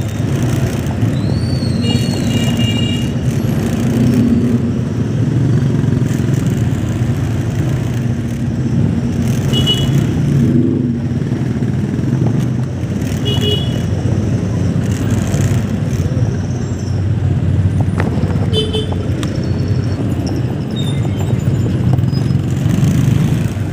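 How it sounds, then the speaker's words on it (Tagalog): Steady road traffic with continuous engine rumble from passing cars and motorbikes, a constant loud wash of noise throughout, with faint higher tones like distant horns or brakes now and then. "Traffic."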